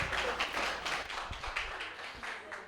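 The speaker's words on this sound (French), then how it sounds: "On l'applaudit très fort, on l'applaudit très fort." A crowd at a talent show claps steadily and fairly loudly, a dense patter of many hands, with a few louder taps standing out.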